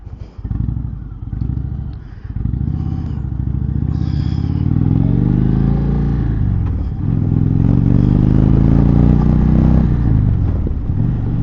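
An Indian Chieftain motorcycle's 116 Thunderstroke engine rumbles steadily while riding, with pitch rising and falling as it shifts and accelerates, loud and close.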